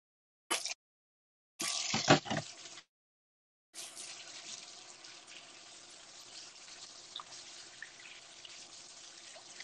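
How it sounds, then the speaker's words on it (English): Hands being washed under a running kitchen tap, heard as short bursts of splashing water followed by a longer, steady stream with light splashes at close range. "So I'll just quickly wash my hands."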